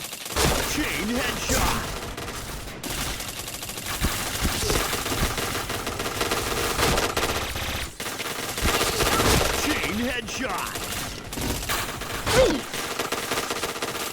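Rapid automatic gunfire from an APC9 submachine gun in the shooter game Point Blank, loud sustained bursts with brief pauses, mixed with game effects and occasional voices talking over the shooting.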